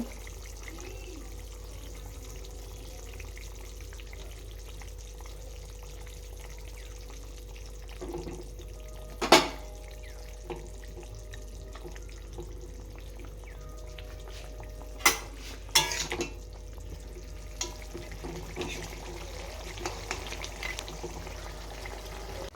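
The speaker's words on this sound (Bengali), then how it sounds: "মাছের ঝোলগুলো ফুটে উঠেছে, এবার মাছগুলো দিয়ে দেবো।" Fish curry gravy simmering in a pot as fish pieces go in, a steady low bubbling hiss broken by a few sharp clinks and splashes, close and quiet.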